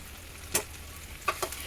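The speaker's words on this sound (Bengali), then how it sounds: "একটু নুন দিয়ে আলুগুলোকে খুব ভালো করে ভেজে নেব" Potatoes fry in mustard oil with turmeric, chili powder and salt, a faint low sizzle broken by a few sharp stirring scrapes near the middle and end.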